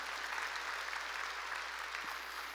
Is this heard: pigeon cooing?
no